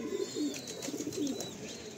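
Young pigeons of the Madrasi breed, just learning to feed, give soft repeated cooing and cheeping calls, fairly close and steady throughout with no talking.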